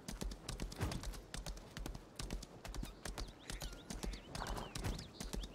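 A horse gallops in the online role-playing game Lost Ark, with rapid steady hoofbeats clopping continuously and fairly loud, joined by light ambient game sounds.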